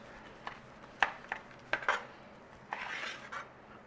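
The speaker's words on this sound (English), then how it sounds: "because we've used brisket, we can slice it" Brisket beef being sliced for Mexican beef, a knife clicking and scraping against a board and dish in a few sharp, close taps with soft rubbing between.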